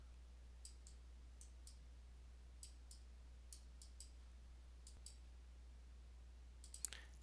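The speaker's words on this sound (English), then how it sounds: "When I click the mouse button and hold it," Computer mouse button clicks, faint and scattered, come singly and in quick pairs over a steady low hum in a quiet room, with a slightly louder cluster at the end.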